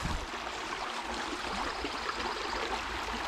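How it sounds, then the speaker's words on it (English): Rainwater babbling down a roadside ditch after 1.6 inches of overnight rain, a steady close rush of running water with no break. "we got a babbling brook"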